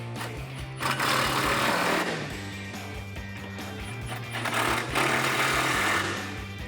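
Power tool running down bolts with a 13mm socket while fitting Barricade side step bars to a 2004-2008 Ford F150: a steady, loud mechanical whirring with two longer bursts of rattling impact.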